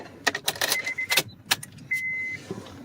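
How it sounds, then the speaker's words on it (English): A key jingles and clicks into the ignition of a 2008-era Honda Accord, several sharp metallic rattles up close followed by a short steady electronic chime. "Put the key back in the ignition."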